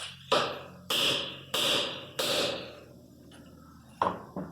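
Four sharp metallic bangs in quick succession, a socket being hammered onto a tight Ford lug nut, then a pause and two more lighter taps.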